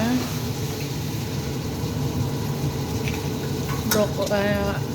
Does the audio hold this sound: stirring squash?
yes